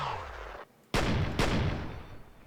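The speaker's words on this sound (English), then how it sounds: "I heard that explosion." Two heavy booming blasts land in quick succession as an explosion sound effect, each a loud, sharp burst with a rumbling tail, following a brief quiet gap; no voices are present.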